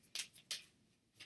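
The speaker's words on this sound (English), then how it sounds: "He's trying to shuffle some cards." A few quick, crisp riffles of cards being shuffled, soft and close, with short pauses between bursts.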